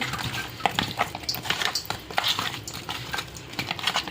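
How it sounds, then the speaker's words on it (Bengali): Local koi fish, caught in a wetland, being rubbed by hand with spice paste and a little raw oil: close, wet squishing and sticky smearing in an irregular rhythm, with light clicks against a dish and no talking. "ভালো করে যাতে মাছের গায়ে ভরে ওইভাবে মেখে নিচ্ছি।"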